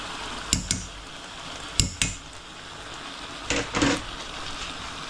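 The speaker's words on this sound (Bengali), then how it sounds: "ধুয়ে পরিষ্কার করে নিয়ে আমার সিমগুলো দিয়ে দিচ্ছি" Washed beans are dropped into a pot of cooking beef, giving a few soft splashy clatters and one short cluster of knocks against the pot over a quiet kitchen background, with no talking.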